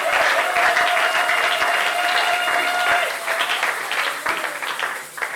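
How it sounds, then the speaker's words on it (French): A church congregation applauds for the matriarch Zoé Amuli at a service in Binza Ozone, a dense, loud burst of many hands clapping, with cheering voices over it that thin out after a few seconds. "Est-ce qu'on peut acclamer pour cette grande personnalité?"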